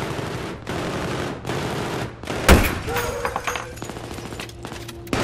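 Automatic gunfire rattles in Battlefield 3 during campaign play, several rapid bursts broken by short gaps, then a sharp loud impact followed by scattered quieter shots and mechanical clanks.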